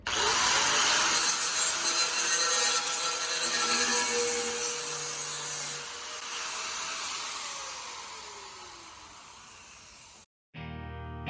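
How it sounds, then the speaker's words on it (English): A Sawzall reciprocating saw cuts through metal during a twin-turbo Mustang build, a loud continuous buzzing rasp that runs for about ten seconds, eases off midway, then cuts out abruptly before a brief burst of other noise. "Sawzall, bad idea."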